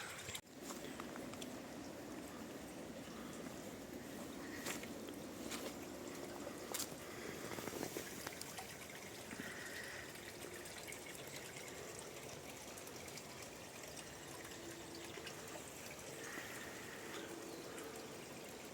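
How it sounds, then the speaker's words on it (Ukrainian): River in a German village on an autumn walk, water flowing and murmuring in a steady, faint rushing wash heard from nearby, with a few brief louder splashes and no talking. "Бачите, яка у нас тут річка, файно чурить."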